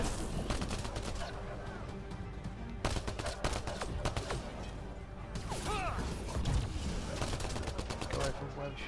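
Gunfire in a Mass Effect Andromeda fight on Eos, with dense bursts of shots and clattering mechanical sounds running almost continuously under occasional speech.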